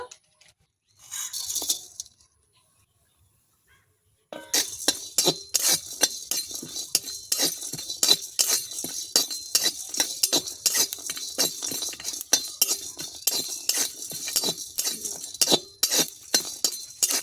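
Whole cumin, coriander seeds, peppercorns, black and green cardamom, cinnamon, cloves, mace and nutmeg are dry-fried in a pan for mutton curry, giving a dense, continuous rattle and scrape of stirring after a short quiet gap, close and steady, with no voices.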